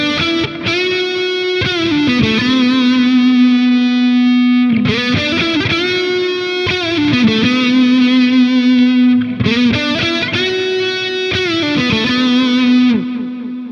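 Electric guitar lead tone run through an AmpliTube 5 amp with a compressor plays sustained, distorted notes and bends in three long phrases, loud and thick with a chorus-like shimmer and no talking.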